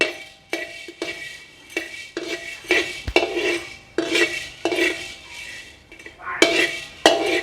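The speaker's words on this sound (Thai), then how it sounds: "พร้อมแล้วเราเอาพริกไทยไปคั่วก่อน" Black pepper dry-roasting in a pan, stirred with a metal utensil that scrapes and clinks against the pan in repeated close strokes, with no talk over it.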